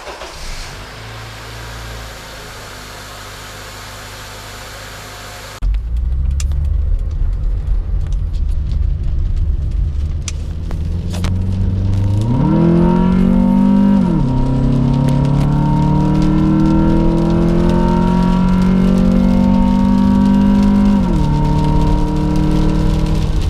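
A 2003 Honda Accord fitted with a new ram air intake starts and settles into a close, steady idle, with a few brief revs lifting the engine note before it drops back.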